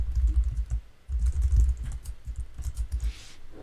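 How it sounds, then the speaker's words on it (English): Rapid clicking of keys on a computer keyboard, typed in short bursts with brief pauses, close and fairly loud with no talking over it. "did I type it correctly?"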